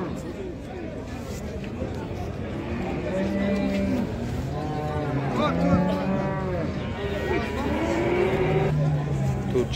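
Dairy cow with a female calf mooing repeatedly at a livestock market, several drawn-out low calls close by, under steady crowd chatter and people talking.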